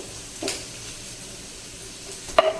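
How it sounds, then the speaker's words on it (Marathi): Onion sizzles steadily in hot oil as it fries to dark brown for a chana and urad dal chutney, a soft continuous hiss with a couple of brief stirring clinks. "अगदी डार्क ब्राऊन कलर होईपर्यंत आपल्याला व्यवस्थित तेलामधून भाजून घ्यायचा आहे कांदा."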